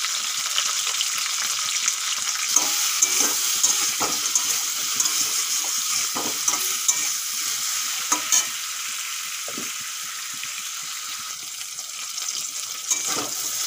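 Okra (bhindi) fries with turmeric and salt in a pan, giving a steady, dense sizzle with faint stirring clicks throughout, close and fairly loud, with no talk.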